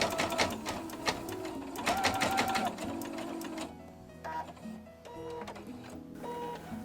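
A sewing machine stitching a star shape onto fabric for a quiet book page runs in quick rapid bursts, pausing and changing pace as it turns, close up and alone.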